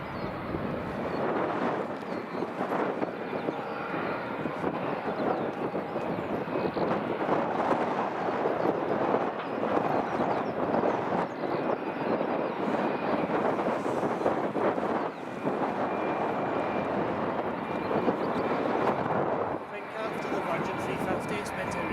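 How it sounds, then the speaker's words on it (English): A United airliner taxiing onto its stand at Edinburgh Airport, a sustained roaring jet engine hum with wind buffeting the microphone, steady and fairly loud for the whole stretch. "United's now taxiing in onto its stand"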